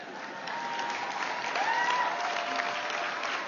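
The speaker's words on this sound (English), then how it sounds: "They still applaud him" An audience at the National Prayer Breakfast applauds steadily, a dense, even patter of many hands heard from a distance with no voices on top.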